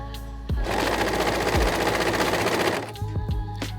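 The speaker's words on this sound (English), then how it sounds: "So you can see this lovely stitch that the overlocker does. Finishes the edge really neatly." An overlocker stitching around a curved fabric edge, a loud, fast, steady mechanical whir that runs for about two seconds between brief start and stop clunks, close by.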